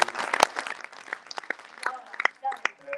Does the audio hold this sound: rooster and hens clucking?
no